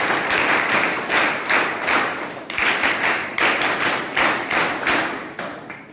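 A crowd applauds loudly and steadily at a public gathering, dense clapping in repeated surges that swell and ease over several seconds, with no voices on top.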